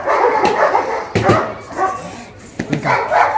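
German Shepherd dogs at a breed show bark in several sharp bursts, with a pause between them, close by and fairly loud over a busy background.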